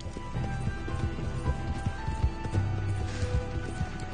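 Hooves of a horse clip-clop at a run in a video game, a steady rapid pounding beat carried through the whole stretch over a busy background of game sound, with faint talk underneath.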